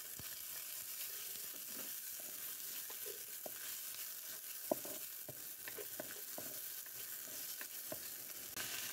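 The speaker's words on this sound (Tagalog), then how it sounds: "Tapos lagyan natin ang chopped onions." Chopped onions sizzle in a hot pan with oil, added after garlic for tahong guisado, a steady close frying hiss broken by scattered clicks and scrapes of stirring.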